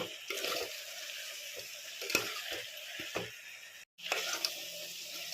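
A brinjal, potato and tomato curry with salt and chili powder is stirred in a pan. A spoon scrapes in an irregular rhythm over a steady sizzle, close and clear, with a brief dropout near the end.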